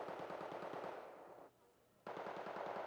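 Rapid automatic gunfire in a helicopter combat video game, a dense rattling stream of shots that drops away briefly then resumes loud and continuous.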